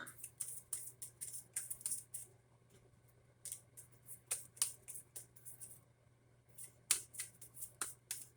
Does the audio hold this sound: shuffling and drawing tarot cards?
yes